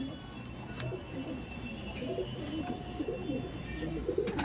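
Several old Madras pigeons in a home loft give soft, overlapping low coos close by, a continuous murmuring with occasional sharper chirps and faint clicks throughout.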